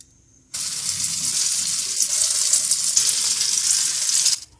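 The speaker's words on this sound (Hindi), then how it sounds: "इसी तरह हम ये दूसरे भी फ्राई कर लेंगे।" Chicken shami kebabs sizzle and fry in an oil-filled pan, a steady loud hiss that begins abruptly and carries on without a break for several seconds before cutting off, close by with no talking.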